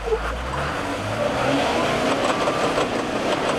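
An off-road vehicle on the rocky Rubicon trail revs hard through a four-wheel burnout, its engine roaring loud and close in a steady, continuous snarl with no talking.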